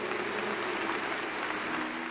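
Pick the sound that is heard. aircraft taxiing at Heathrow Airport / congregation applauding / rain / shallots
congregation applauding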